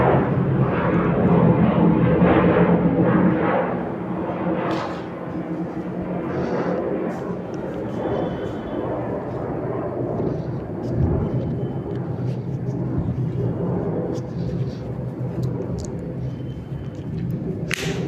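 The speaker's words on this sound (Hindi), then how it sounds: "थोड़ी एरोप्लेन आ गई है" An aircraft passing overhead during a classroom maths lesson, a broad low rumbling drone that swells loudly early, then holds steady for many seconds with faint scattered clicks and no clear talk.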